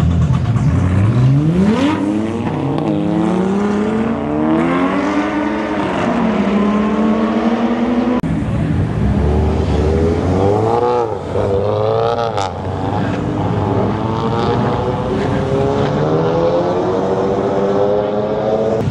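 A Ford Mustang and a Nissan 370Z launch side by side in a drag race, engines roaring loud and near as they rev upward through repeated gear changes, with a brief crowd voice beneath.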